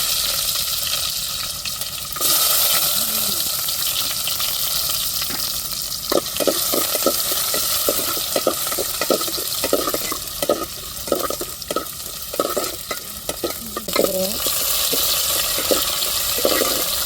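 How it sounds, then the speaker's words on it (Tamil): Chopped onions go into a hot pan with cinnamon for egg curry, giving a loud, steady sizzle of frying with a string of scraping, clattering stirs near the middle. "இப்போ கட் பண்ண வெங்காயத்தை சேர்த்துக்கிடுவோம்."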